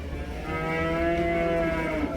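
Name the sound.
cattle mooing at livestock market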